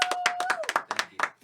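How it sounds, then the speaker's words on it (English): A few people clap for a podcast guest, a short burst of close, distinct hand claps in an uneven rhythm, with a faint tone beneath. "we want to first give Rob a round of applause"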